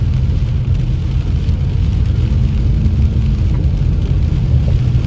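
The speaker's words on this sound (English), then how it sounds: "Definitely the heaviest rain I've seen yet." Heavy rain from Tropical Storm Hilary pours down near Big Bear's Baldwin Lake as a loud, dense, unbroken roar, steady throughout with no pauses.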